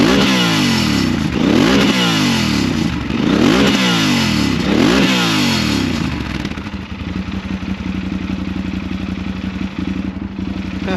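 A motorcycle engine revs hard through a road-legal homologated exhaust, several rising and falling throttle blips, loud and close, then dropping to a lumpy, rattly idle for the last few seconds.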